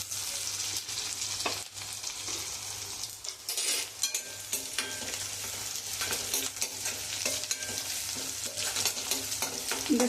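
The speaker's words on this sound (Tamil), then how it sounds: "வெங்காயம் நல்லா வதங்கிடுச்சு." Onions and curry leaves sizzle and crackle in hot oil for a South Indian brinjal curry, with a spoon stirring and scraping the pan throughout.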